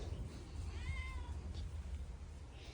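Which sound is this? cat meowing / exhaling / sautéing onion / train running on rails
cat meowing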